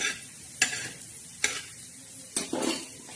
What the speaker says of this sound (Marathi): खडा मसाला असा छान असा असं भाजून घ्यायचा